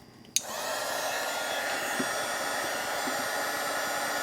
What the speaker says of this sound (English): I got a micro heat gun here.